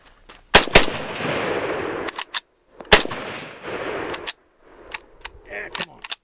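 An SKS rifle fired while caked in mud and dirt during an outdoor mud test: loud, sharp shots spaced irregularly over several seconds, some in quick pairs, with rumbling noise and ringing between them.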